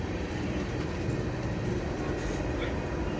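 An empty ethanol freight train rolls slowly along a siding toward a signal, producing a continuous broad rumble with faint wheel noise, steady and fairly close.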